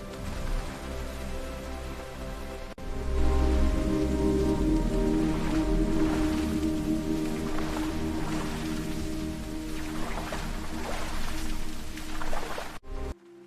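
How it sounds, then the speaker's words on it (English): Steady rain falls on a river in the Amazon rainforest, a continuous close patter with scattered louder drops throughout. "The rain makes everything so magical, doesn't it?"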